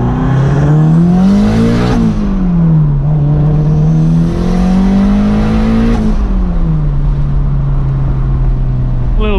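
A tuned Toyota MR2 engine cruises up close inside the car, its loud steady drone rising and falling smoothly with gentle throttle changes and no talk.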